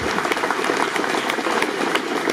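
Steady, dense applause from a large crowd at a gendarmerie school graduation ceremony, many hands clapping continuously without pause.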